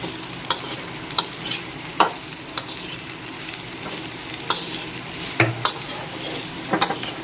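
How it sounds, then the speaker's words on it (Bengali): A spatula stirs coconut and banana flower in a pan, giving a soft background sizzle with regular sharp scraping and tapping strokes, each about a second apart. "এবার আরও একটু ভালো করে নেড়ে চেড়ে নিচ্ছি"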